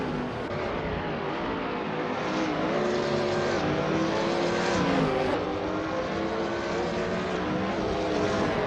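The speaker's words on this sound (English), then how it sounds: "Bot Unistix is running a 2016 Mazda MX-5 Cup, known for its agility and balanced handling" Race car engines roar in a racing video game, including a 2016 Mazda MX-5 Cup: a continuous loud, layered engine whine that shifts pitch as the cars accelerate and change gear.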